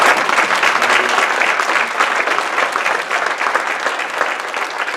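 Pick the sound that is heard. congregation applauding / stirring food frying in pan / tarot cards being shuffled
congregation applauding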